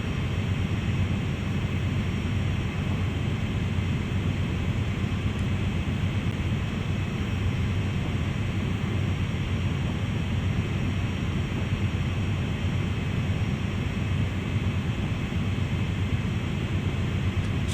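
A constant locomotive engine drone from a CSX heavy-haul train in Train Sim World, heard as a steady, even rumble with no breaks throughout.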